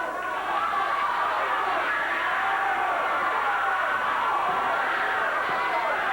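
A wrestling arena crowd at a 1989 CWA Memphis championship wrestling show keeps up a steady, broad roar of cheering that stays loud and even throughout.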